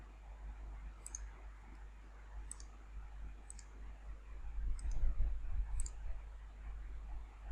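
Five sharp computer mouse clicks spaced about a second apart, near and crisp over a low steady hum, no talking.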